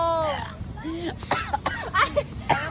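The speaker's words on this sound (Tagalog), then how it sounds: "Inuubo na nga oh." A few short, harsh coughs and throat-clearing bursts come close together, with someone talking around them.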